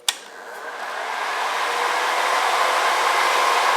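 A high-RPM electric nail file drill whirs steadily, running at around 8,000 RPM while filing dip powder nails; a sharp click starts it, then the loud, even whine holds alone throughout.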